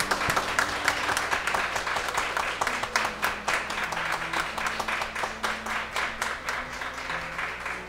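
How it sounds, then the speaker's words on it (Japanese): Wedding guests at a mock ceremony at Nagoya Garden Palace applaud warmly, a dense, steady patter of many hands lasting several seconds over soft sustained background music. "温かい拍手をお願いいたします。"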